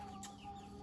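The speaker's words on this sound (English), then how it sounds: "if you hear the chickens making noises" Chickens clucking in a backyard flock, soft overlapping fowl calls close by over a steady low hum, with no talking.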